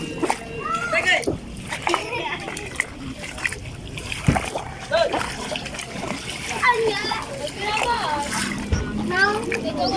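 Water splashes and sloshes on a flooded road as a delivery rider passes through, with repeated splatters and a voice and other talk mixed over the wet road noise.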